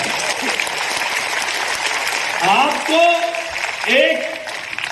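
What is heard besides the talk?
audience applause at a Delhi traders' event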